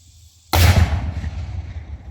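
A single black powder gun shot fired at a Civil War reenactor powder comparison, one sharp loud blast after a quiet moment, with a booming tail fading outdoors.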